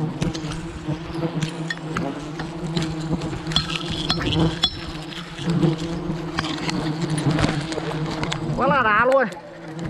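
Wild honeybees swarm around a hive high in an old banyan tree, a steady close buzzing that runs throughout beneath someone talking, ending in a brief rising whine.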